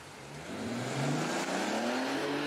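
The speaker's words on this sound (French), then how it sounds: "Un vrombissement de moteur, un vieux et puissant moteur" A powerful old car engine revs up steadily, its deep growl climbing in pitch and holding loud and close, with no voices.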